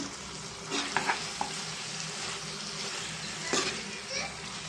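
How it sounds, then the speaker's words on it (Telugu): Chili powder and coriander powder are stirred into an eggplant, potato and tomato curry frying in a pan, giving a steady sizzle with a few soft scraping stirs over it. "ధనియాల పొడి మొత్తం వంకాయ బంగాళదుంపలు పట్టే వరకు మనం కలుపుకున్నామండి"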